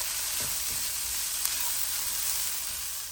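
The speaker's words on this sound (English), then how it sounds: "So this has been frying off for about 4 minutes now." Steady, close sizzle of ginger, garlic and chili frying in hot oil in a pan, a continuous crackling hiss with a couple of faint stirring knocks near the start.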